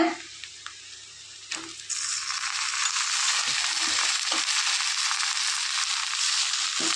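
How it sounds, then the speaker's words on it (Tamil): Chopped tomatoes drop into a pan of sautéed garlic with a few soft thuds, then a loud, steady sizzle of frying rises and holds close and bright to the end. "நம்ம நைஸாக அரிஞ்சு வச்ச தக்காளியும் சேர்த்துக்கலாங்க"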